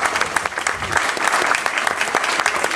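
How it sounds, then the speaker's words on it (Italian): Audience applause at an open-air political rally breaks out dense and continuous, a steady wash of many hands clapping at close range. "l'applauso a loro"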